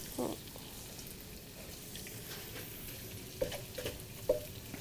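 Chopped tomato fries in spice masala for beef nihari, a soft, low sizzle in the pan broken by a few sharp clinks and scrapes of stirring.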